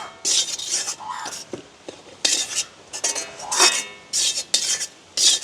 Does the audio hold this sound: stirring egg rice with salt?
yes